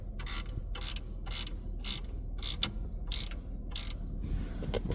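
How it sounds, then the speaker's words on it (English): Quick bursts of ratchet clicking as a bolt is tightened on the ignition lock assembly of a 2009 Ford Escape, about eight short rapid strokes with brief pauses between them, close and clear. "we're going to go ahead and tighten the bolt. Maybe I can get the ratchet on there."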